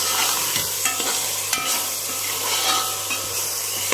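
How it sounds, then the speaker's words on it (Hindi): Peas frying in oil and spices in a pan, a steady close sizzle with spoon scrapes and stirring clinks running throughout, no voices. "हमें इसको कम से कम 5 मिनट मसाले में और ऑयल में फ्राई करना है।"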